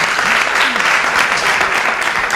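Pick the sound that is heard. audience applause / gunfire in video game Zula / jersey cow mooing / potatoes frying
audience applause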